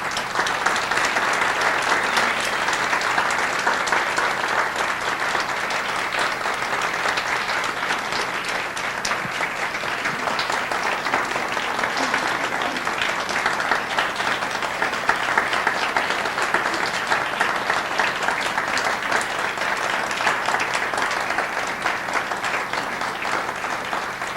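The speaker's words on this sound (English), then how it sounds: "I think it's appropriate that we give them a round of applause for all of the time they put in." Audience at an annual community walk event applauds students in long, steady, dense clapping that stays at an even level for over twenty seconds, with no speech over it.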